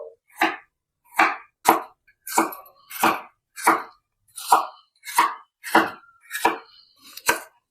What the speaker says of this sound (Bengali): এবার একটা একটা ক্যাপসিকাম কেটে নেব এটাও খুব সরু সরু লম্বা লম্বা করে কাটবো